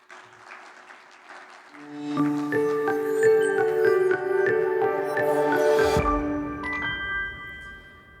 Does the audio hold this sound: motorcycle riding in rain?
no